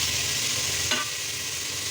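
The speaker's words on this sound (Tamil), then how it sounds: "போட்டுட்டு தக்காளி நல்லா வதங்கணும்." Chopped tomatoes sautéing in a pan, a soft steady sizzle with a single brief stir or scrape partway through, close and fairly quiet.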